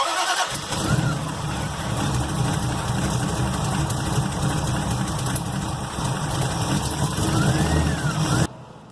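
An engine with Comp Cams roller rockers and Polylocks cranks and catches, then settles into a loud, close, steady idle with a slight ticking rhythm before cutting off.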